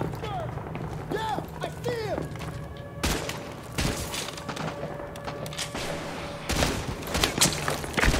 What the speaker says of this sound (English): Let's try out this gun, the TAR.